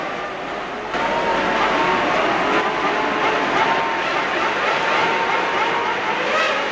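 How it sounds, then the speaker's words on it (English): Formula One cars leaving the grid at the start of the 1996 Monaco Grand Prix, a loud, dense, continuous roar of many engines that swells sharply after the first second and holds steady, with crowd noise mixed in. "75 laps of the Monaco Grand Prix coming up when the last red light goes out."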